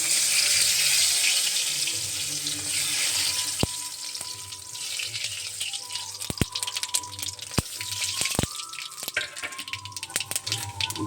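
Spices for tempering hit hot oil with a loud, rushing sizzle that gradually settles into scattered sharp pops and crackles, close by and with no talking.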